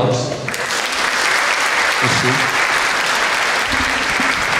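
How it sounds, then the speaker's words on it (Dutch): An audience at a closing event of a teacher-education program breaks into sustained, dense applause, loud and close, with voices mixed in beneath the clapping. "Applaus."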